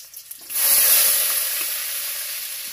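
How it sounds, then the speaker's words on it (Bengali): Boiled potatoes with spices hit a hot pan and burst into a loud, bright sizzle that holds steady and then eases slightly. Faint clatter comes first. "সিদ্ধ করা আলুটা দিয়ে এবার ভালোভাবে আমি আলুটাকে ভেজে দেব"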